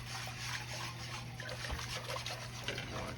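Water trickles and pours steadily into a thin gravy on the stove, a continuous close liquid dribble with faint splashing over a low steady hum throughout.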